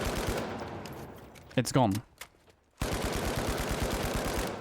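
The FCAR gun in the video game The Finals fires rapid full-auto bursts: a dense clatter of shots, then a short gap with a brief spoken remark, then another sustained burst.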